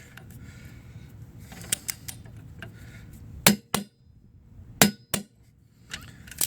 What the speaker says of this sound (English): get this torque down to 80 foot-pounds here in just a second. Okay, and here we go with the torque wrench.